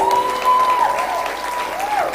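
An audience at a student speaking event at The Gera School claps in a dense, sustained round of applause, with a faint tonal sound ringing over it.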